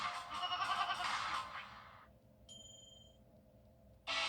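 A goat's bleat heard as a sound effect in a TV advert: one wavering, nasal cry comes first, then a short high electronic tone and quiet room noise, with another burst of sound at the close.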